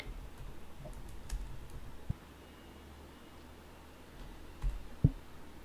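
Someone types a search term on a computer keyboard, producing faint, scattered key clicks and taps over a quiet hiss, with a slightly louder click near the end.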